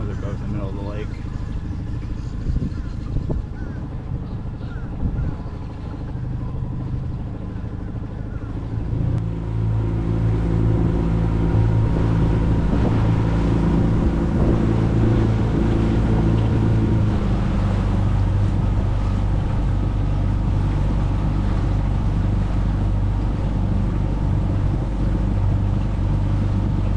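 Motorboat engine droning steadily while cruising east across Little Lake Conway in Orlando, Florida, a continuous low hum with wind and water rush, rising slightly in intensity partway through, with faint voices under it.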